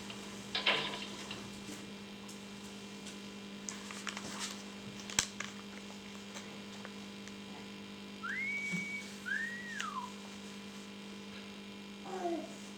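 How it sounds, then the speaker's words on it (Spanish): Short whistled notes from a person, a rising-falling pair of tones standing out faintly against a steady electrical hum in a quiet room, with a brief clatter near the start. "pues pudo silbar, yo pensaba que no iba a ser capaz"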